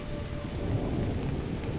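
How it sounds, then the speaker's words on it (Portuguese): Steady heavy rain with rumbling thunder during a stormy night in the WildCraft game, a dense continuous roar filling the whole stretch without voices. "tava essa chuva, essa tempestade, olha, com raios e trovões."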